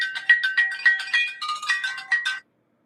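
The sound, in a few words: phone ringing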